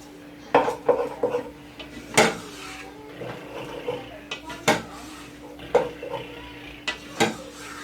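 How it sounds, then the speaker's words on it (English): Onions and seasonings are dry-stirred in a pot while making spaghetti bolognese. A spoon scrapes and clinks against the pot in irregular bursts, with sharp knocks now and then and a faint background hum. "I'm going to get all those onions and seasonings all mixed in there. Give that a good stirring."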